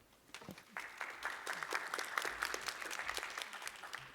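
An audience at an academic paper session on reading and writing accessibility applauds, with scattered claps building quickly into a steady, moderate round of applause that holds on to the end.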